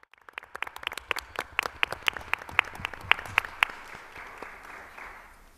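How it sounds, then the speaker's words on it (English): Audience members at a school board meeting clap for students, starting with a few scattered sharp claps that quickly multiply into distinct rhythmic hand claps, then blur into a softer, fading wash of applause. "So let's clap them up."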